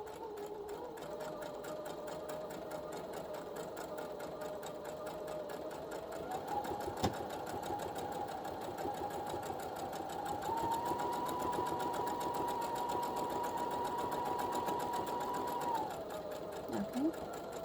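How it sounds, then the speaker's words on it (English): A domestic sewing machine runs steadily, stitching a fabric bookmark in one long continuous pass, its motor hum rising in pitch partway through and stopping near the end; no talking over it. "And you're just going to sew until you get all the way down to the end."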